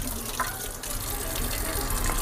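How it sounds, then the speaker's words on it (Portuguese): A dish towel soaked under a running kitchen sink tap, producing a steady close rush and splash of water that fills the whole moment without pause. "Vou encharcar esse pano de prato aqui na pia."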